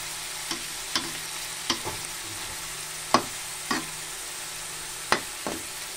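Chicken sautéing in a pan as the base for sopas: a steady, quiet sizzle broken by about eight sharp clinks and scrapes from stirring, spaced irregularly and heard up close with no voices.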